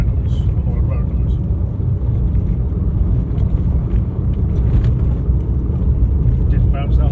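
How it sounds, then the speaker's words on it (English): Steady roar of old tyres and road surface heard from inside a Nissan K11 Micra while driving, a constant low rumble filling the cabin with faint occasional knocks, loud and continuous. "you can hear it. There's an old tyre noise, an old road noise"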